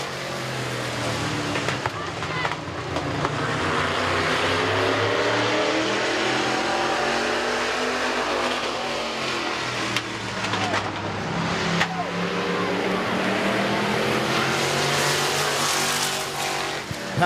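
Race cars at Midvale Speedway taking the green flag for a heat, engines roaring and surging around the oval in a dense continuous wash of noise, with a commentator's voice over the top.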